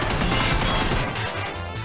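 Rapid gunfire in PlayerUnknown's Battlegrounds, a dense burst of loud cracks and impacts running continuously and fading slightly toward the end.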